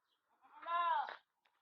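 A single goat bleats once at a goat farm, a clear, close, wavering cry lasting under a second, followed by quiet.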